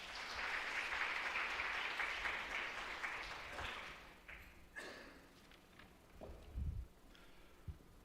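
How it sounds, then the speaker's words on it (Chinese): A church congregation at a Sunday service claps warmly to welcome a speaker, with dense sustained applause that fades after a few seconds into a few thumps and shuffling. "我们拍手来欢迎他"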